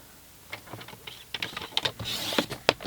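Card stock is trimmed on a paper trimmer in a run of small, close clicks and scrapes, sparse at first and then quicker, ending in a sharper slicing swish.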